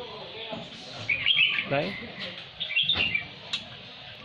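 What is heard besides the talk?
red-whiskered bulbul chirping while flying free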